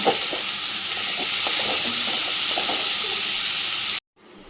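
Two medium onions, chopped, fry in hot oil with a dense, steady hiss and faint stirring crackle, close and loud, before cutting off abruptly.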